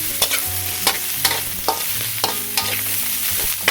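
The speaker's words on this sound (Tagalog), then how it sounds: "Tapos hahaluin lang natin siya" Flaked fried fish is stirred in a pan for ginataang kalabasa, a spoon scraping in steady repeated strokes over a constant close sizzle, with no talking.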